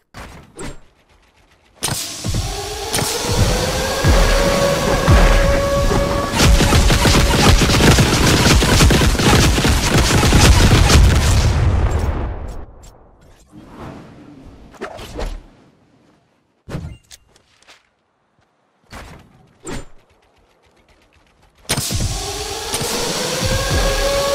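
Airstrike in Fortnite: a long, loud rumbling roar of repeated explosions over several seconds, with sharp gunshot-like cracks, mechanical whirring and bursts of building noise before and after.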